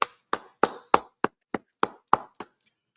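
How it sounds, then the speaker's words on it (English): Audience clapping at a class gathering: nine sharp, separate claps in a loose rhythm, roughly three per second, close and clear with silence between them and no talking. "All right, clap it up"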